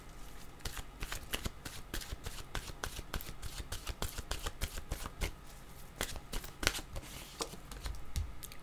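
Tarot cards being shuffled by hand, a quiet, steady run of crisp riffling snaps and flicks close to the ear, with no talking.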